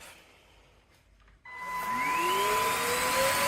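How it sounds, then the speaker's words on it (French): A Kärcher FCV 3 cordless floor cleaner starts up about halfway through and runs steadily with a loud, rising motor whine, following a quieter lead-in. "Je vais aspirer en même temps."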